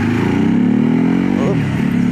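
A Ducati motorcycle engine drones steadily while the bike is ridden, a loud, close, continuous hum that shifts pitch briefly midway as the rider changes speed.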